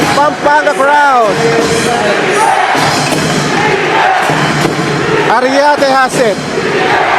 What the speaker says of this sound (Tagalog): you can hear the chance of defense coming from this Pampanga crowd